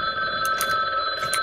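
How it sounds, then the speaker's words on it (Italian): A telephone rings with a steady electronic trill, continuous bright tones pulsing through the whole moment, fairly loud with no talk over it. "Mi squilla il telefono."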